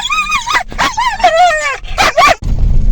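Near and loud, a dog gives a rapid run of high yelping barks and whines while sheep graze nearby, then falls quiet for a moment at the end.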